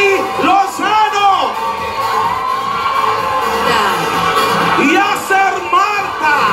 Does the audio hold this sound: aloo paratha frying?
no